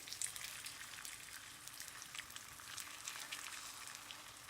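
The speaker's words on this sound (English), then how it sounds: "let each side fry golden brown" A sweet puran poli fries in oil on a heated pan, giving a faint, steady crackle and sizzle with scattered tiny pops, no voices.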